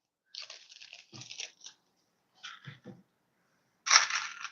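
Lego bricks are handled and clicked together close up in bursts of crisp plastic rattling and snapping, separated by short silences, with a louder clatter at the end.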